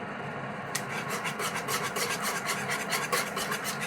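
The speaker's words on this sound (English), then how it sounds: "because I'm constantly whisking it on the heat, it's kind of blended in" A whisk scrapes steadily around a pan of cheese sauce on the heat, giving a continuous close-up rasping, rubbing rhythm with no talk.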